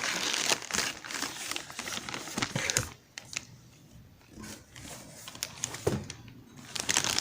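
Crinkling and crumpling of the plastic shipping packaging around a Parfois slim crossbody bag in snake print, handled close up in bursts, with a quieter pause in the middle before the rustling picks up again.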